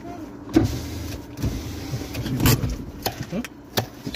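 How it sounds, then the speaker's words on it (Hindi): A car power window motor whirs briefly amid low cabin rumble and scattered clicks and bumps, fairly close, during a night drive. "शीशे खोलने पड़ेंगे"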